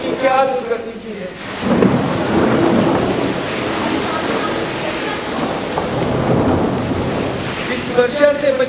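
Heavy rain with rolling thunder staged in a Hindi stage play, a loud sustained downpour and rumble that swells and fades, with a voice speaking briefly at the start and end.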